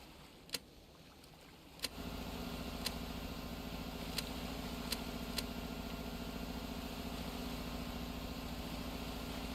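A boat engine idles in the engine room in the game Stormworks, a low steady drone that kicks in after a couple of seconds alongside a few sharp ticks.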